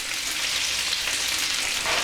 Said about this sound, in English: leave the pan alone for at least 3 or 4 minutes so that the potatoes start taking on all of that flavour